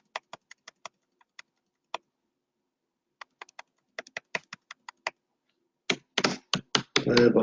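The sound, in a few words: typing on a computer keyboard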